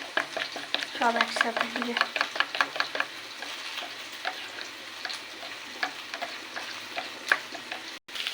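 A utensil whisks ground spice paste with yogurt in a bowl, a quick series of close, rhythmic clicks and scrapes that slows and thins out. A voice speaks briefly near the start.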